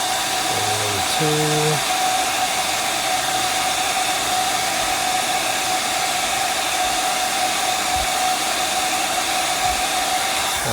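A heat gun blows a steady, even hiss-roar for the whole stretch while warming a muscle-modification part for an S.H.Figuarts Son Goku Ultra Instinct figure, with a voice briefly counting at the start.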